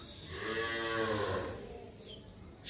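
One drawn-out moo from a cow at a cattle market in Dinajpur, moderately loud and fairly near, rising and then fading, with no voices.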